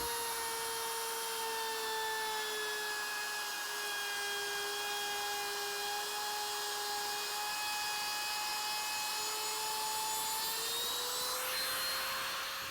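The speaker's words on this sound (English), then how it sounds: "just trying to keep the base of the router nice and flat against the material" A router cuts a wooden skeg for a dory, its motor whining at a high steady pitch with a constant loud rushing roar, the tone dipping slightly under load and rising near the end.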